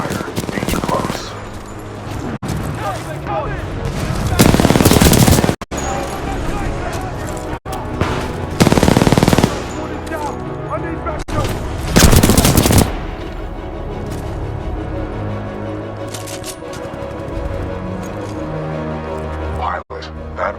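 Supporting gunfire in the video game Titanfall 2 rattles in long heavy automatic bursts over a constant roar of battle, with a voice speaking beneath the loud fire.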